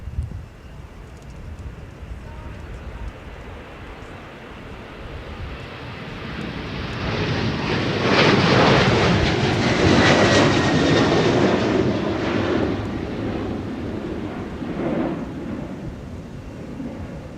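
Sun Country jet airliner departing Minneapolis–St. Paul Airport for San Francisco, a broad roaring engine rumble that swells from distant to loud at the midpoint, then slowly fades while staying strong.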